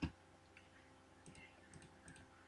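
A single sharp click opens the span as someone operates a laptop's lock system during urban exploration, followed by faint scattered ticks and taps on the device.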